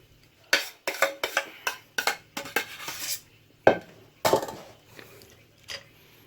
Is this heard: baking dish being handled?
yes